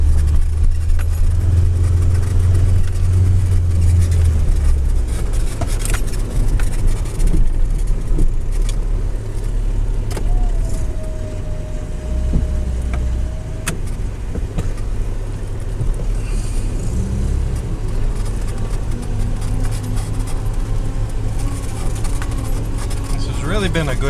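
A 1993 Toyota pickup with a worn 22RE four-cylinder engine that needs a timing chain drives along, its low engine drone and road rumble rising and easing steadily throughout the long run.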